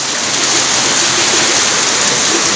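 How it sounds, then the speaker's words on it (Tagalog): Heavy rain pours down in a dense, continuous roar of hiss, loud and close, with no breaks and no voices. "Sobrang lakas ng ulan dito guys oh."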